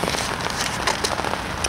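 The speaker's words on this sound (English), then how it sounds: "the rain's increased, as you can see, but the wind has died a bit" Steady rain falls outdoors on a windy day at a carp fishing spot, a dense, even hiss of drops pattering on surfaces, close and continuous, with no talking.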